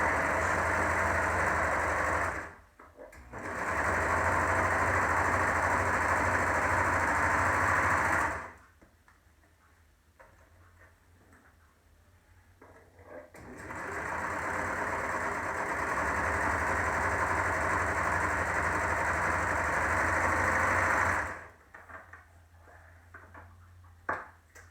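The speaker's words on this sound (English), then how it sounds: "we want to sew along the longer side, sew along that edge on both pieces" A serger sews along the long edge of face mask fabric pieces, running in two long, steady, loud whirring bursts separated by a quiet pause, with no talking.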